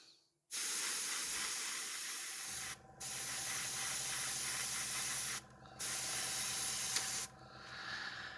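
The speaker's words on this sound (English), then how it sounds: "As you can probably hear, my airbrush compressor is, you know, very weak at this point" Steady hissing airbrush paint spray in three long bursts with brief pauses between, plus a low hum from a weak compressor underneath, close and fairly loud.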